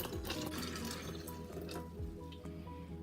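Cold water runs and splashes into a pitcher holding blueberry juice for a few seconds, a steady quiet pour with faint gurgles.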